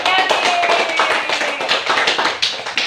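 Students in an Indonesian elementary school classroom clap together in a steady, dense burst of applause that runs throughout, close and fairly loud.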